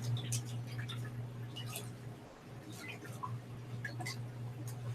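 Water squeezed out of aquarium filter media from a sump, heard as faint scattered drips and wet squishes over a low steady hum, fairly close and quiet.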